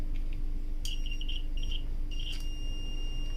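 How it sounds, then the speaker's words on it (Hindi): A homemade continuity tester powered by a 9V battery and a small speaker beeps in short high-pitched bursts, a few broken tones then a longer steady one, over a low electrical hum, no talking. "ये आपको बीप सुनाई दे रही होगी जब भी हम कोई चीज़ चेक करेंगे।"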